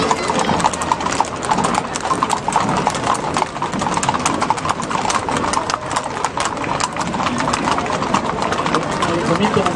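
Rural defense cavalry, mounted farmers, parading past during a street procession in Cuautla, Morelos, a dense steady clatter of many hooves on pavement, loud and close, with someone talking throughout over the crowd noise.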